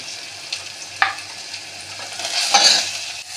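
Fried onion with salt and tomato sizzles in a pan as a spoon stirs and scrapes it, making a few distinct clinks over a soft steady frying hiss.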